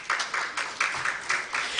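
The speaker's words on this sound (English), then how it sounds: "please let's give a resounding round of applause to Coca-Cola" An audience at a Nigerian plastics-economy launch event applauds for Coca-Cola, with a modest crowd clapping in a steady, rhythmic pulse of close hand claps.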